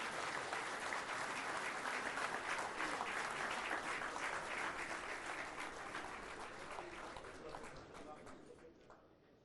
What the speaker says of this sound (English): let's bid them adieu with a huge round of applause